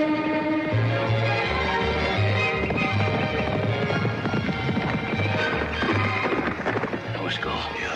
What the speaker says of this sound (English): She and Joe's horse racing.